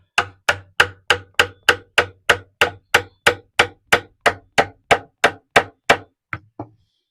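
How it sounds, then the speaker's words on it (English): A hammer strikes a chisel to pry a paper mache branch from a sculpture, about seventeen sharp, evenly spaced blows close up, with the last two softer and spaced apart. "Just going to see if I can get this out with the chisel"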